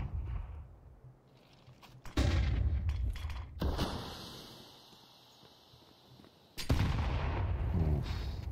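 Grenade explosion during a Counter-Strike match, a sharp loud burst followed by a decaying rumble, then a second heavy blast later, set among distant gunfire and footsteps.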